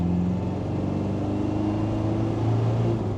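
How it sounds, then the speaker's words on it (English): A Land Rover Defender 300 Tdi pulls hard at full throttle, its diesel engine droning loud and steady inside the cab while a rising whine of the turbo spooling runs over the low rumble. "So full throttle now. Turbo spooled up quick."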